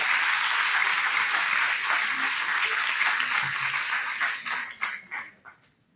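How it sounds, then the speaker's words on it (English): A large audience at a formal debate on charter change applauds steadily as a justice is introduced, the dense clapping holding loud for several seconds before thinning out and fading to a few last claps. "let us all give a big warm round of applause"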